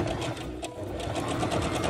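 A sewing machine runs a straight seam on a protective face mask, a fast steady mechanical chatter of needle strokes, close and continuous with a brief dip midway.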